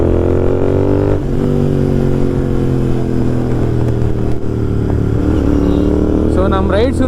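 Several motorcycles set off on a group ride together, engines droning close and loud with steady rumbling harmonics and rising revs near the end, continuous throughout.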